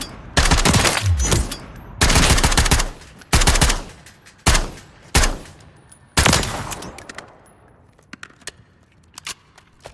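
Bursts of automatic fire from the KV Broadside shotgun with the JAK Jawbreaker kit in a video game firing range, several loud rapid volleys separated by short pauses, tapering into a few sparse single shots near the end.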